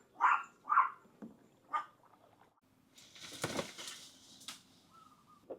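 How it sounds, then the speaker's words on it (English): A few sharp barks from guard dogs, spaced apart, followed by rustling and scraping noises with a faint chirp in the background. "Some guard dogs are more threatening than others."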